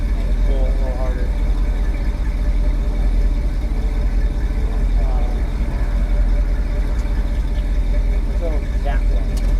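A 1965 Chevy Nova wagon engine idles high and steady, a continuous low rumble that never settles down, with faint voices briefly audible over it.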